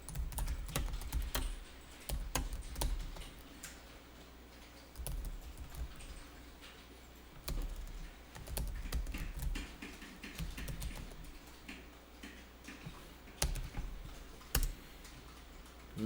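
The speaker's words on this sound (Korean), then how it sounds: "타자가 더 빠를 수 있기 때문에 그냥 타자 하는 것이고요" Steady typing on a computer keyboard during an accounting software class, key clicks pattering in irregular bursts with short pauses, close and fairly quiet against a low background hum.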